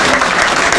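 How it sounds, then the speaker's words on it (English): Large audience applauding at the opening of a renovated branch library, a loud, close, steady wash of clapping throughout the short moment. "So we want to give her a really large round of applause"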